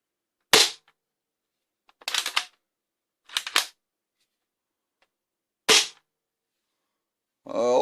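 A Nerf Pro Gel Fire Ghost gel blaster fires four separate sharp, snappy pops spaced about a second apart, close and crisp against silence, with a brief voice at the end.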